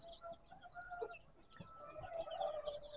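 Purebred Mia Son Tay chickens on a farm cluck and chatter in soft, scattered calls, fairly faint and a little distant, growing busier toward the end.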